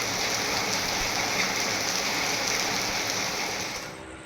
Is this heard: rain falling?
yes